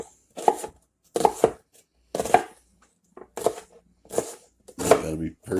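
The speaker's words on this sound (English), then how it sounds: "We're going to cut up some of that onion." An onion chopped with a knife on a board, a series of crisp close chops in short bursts of several strokes each, separated by brief pauses, about seven bursts in all.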